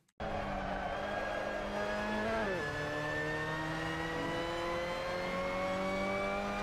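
A Mazda MX-5 Cup race car in Assetto Corsa at Portimao holds a loud, steady engine drone close by, with a quick dip and recovery in pitch partway through, then a slowly rising whine.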